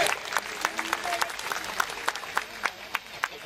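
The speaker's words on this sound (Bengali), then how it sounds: "বড় একটা হাততালি আমাদের সবার তরফ থেকে।" Audience clapping at a Durga Puja gathering in a temple hall, scattered claps swelling into sustained applause over a crowd murmur, fairly near and moderately loud, with voices talking underneath.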